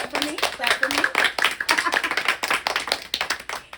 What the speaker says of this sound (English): I'm sorry, clap for me. Clap for me.